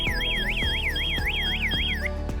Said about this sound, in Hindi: तो इमीडिएटली सायरन बजना शुरू हो जाएगा सर।